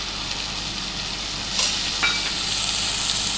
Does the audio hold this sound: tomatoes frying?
yes